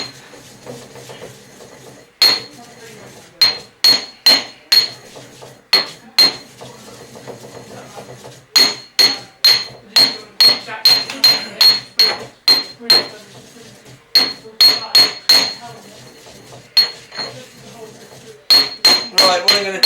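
Spices for a chicken jalfrezi are ground in a mortar and pestle, giving a long run of close, irregular hard knocks and clinks with rapid bursts and short pauses, and faint rubbing between strikes.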